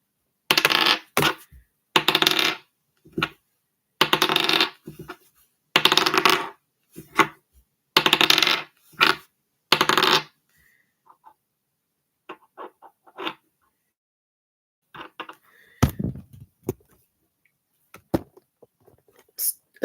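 Dice tumble onto a hard surface in repeated short clattering bursts, close together at first and then thinning into sparse, lighter clicks and taps, all nearby with no talk.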